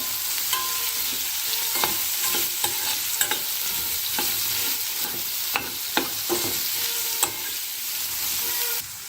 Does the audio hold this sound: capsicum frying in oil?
yes